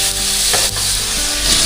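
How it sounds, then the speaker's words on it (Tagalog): Steady, loud sizzling of fish frying in hot oil, a continuous crackling hiss with no voices. "Habang tayo nagpiprito dyan sa kabila"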